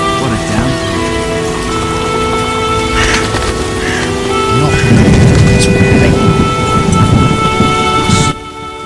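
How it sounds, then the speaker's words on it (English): Heavy rain pours steadily in The Witcher video game while thunder rumbles low and swells midway, then the sound cuts off abruptly near the end. "What a downpour."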